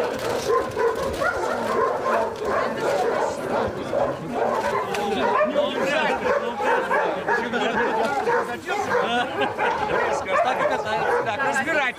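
Many dogs bark, yip and whimper continuously at close range in a noisy pack, while people talk over the din.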